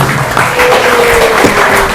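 Loud, continuous audience applause filling a hall at an open exam where students read classical Islamic texts, a dense wash of hand claps with a faint voice underneath.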